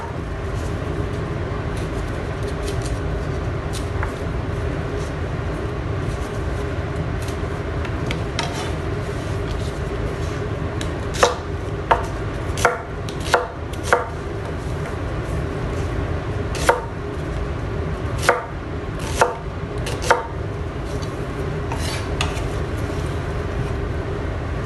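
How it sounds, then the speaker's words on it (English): Knife chopping onion and vegetables for kimchi stew, heard as a scattered run of sharp, near taps against a board over a steady low kitchen hum, with clusters of quicker strokes partway through. "Okay, let's cut vegetables. I will add 50 gram onion."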